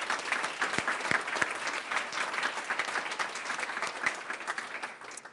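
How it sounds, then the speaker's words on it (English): Audience applause fills a graduation ceremony for physician assistant studies, a steady wash of many hands clapping with sharp individual claps standing out, sustained at even loudness throughout. "So again, another round of applause for all those folks."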